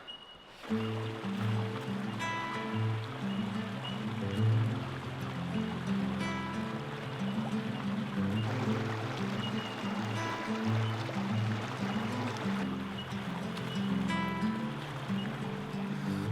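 Water flowing in a bush creek in the Blue Mountains after heavy rain, a steady continuous rush and trickle close by, with a strong tonal music-like layer running beneath throughout.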